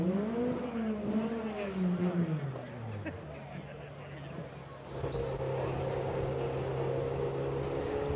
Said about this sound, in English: The Toyota Corolla you may have heard entering the paddock behind.